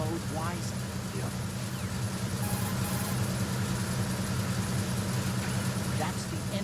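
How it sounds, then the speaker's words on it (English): Aboard a tanker in the video game Metal Gear Solid 2, the ship's engine room gives off a constant low mechanical rumble and hum, heard steadily underneath people talking. "The engine noise is pretty loud, but that means the enemy's hearing will be hampered too."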